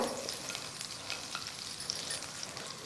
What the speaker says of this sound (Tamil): அதை போட்டுட்டு பட்டர் மெல்ட் ஆகட்டும்.